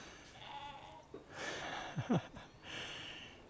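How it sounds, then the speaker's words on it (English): Several short, wavering bleats from goats at a middle distance on the island of Madeira, Portugal, with a soft outdoor hiss underneath and no talking. "You can hear the goats bleating."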